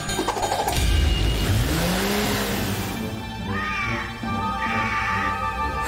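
A cartoon cat in a Cars & Trucks Rescue Squad animation lets out several drawn-out meows with sliding pitch, fairly loud over a rumbling, engine-like background and musical sound effects.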